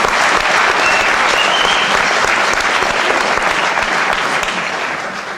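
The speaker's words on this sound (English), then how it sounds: "But all of you is to give them all a great round of applause." A live audience at a variety show gives a loud, sustained round of applause for veterans, dense clapping and crowd noise filling the space and tapering slightly at the end.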